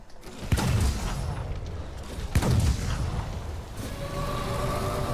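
Two heavy booming blasts about two seconds apart, loud and close, from a bomb exploding in Monster Hunter World: Iceborne, followed by a lingering rumble and a faint sustained tone.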